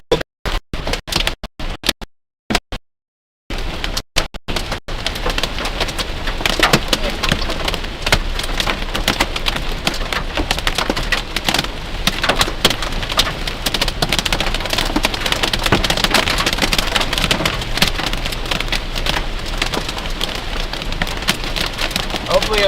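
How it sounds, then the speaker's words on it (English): Hail and heavy rain pounding a storm chaser's vehicle near Rainfield during a Nebraska–Kansas tornado threat; after a few choppy bursts, a loud, dense, continuous roar of drumming impacts fills the whole stretch. "this hail's getting big back here in Rainfield"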